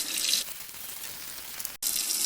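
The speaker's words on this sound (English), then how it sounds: "Again, just rinse it with water, nothing special." Tap water runs hard over a Roborock robot vacuum housing being rinsed, a steady close splashing gush that softens midway, cuts off briefly, then returns at full strength.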